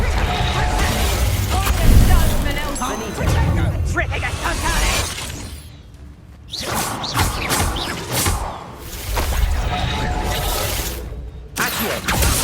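Fire spell blasts and crashes in the Hogwarts Legacy video game, repeated loud bursts and thuds amid busy combat noise with a voice shouting over the action.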